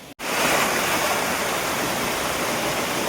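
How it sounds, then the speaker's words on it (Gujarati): Water rushes loudly and continuously down Mahor waterfall, a broad, steady roar that fills the clip after a brief dropout at the start. "પાણી જોરદાર આવે છે ગાઈસ."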